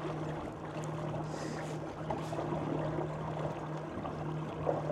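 A boat pushed upwind by electric outboard motors runs with a steady low hum beneath constant wind and water wash, loud and unbroken throughout.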